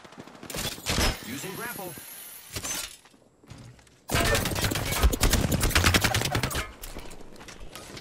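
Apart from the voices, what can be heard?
gunfire from an attacking squad in the video game Apex Legends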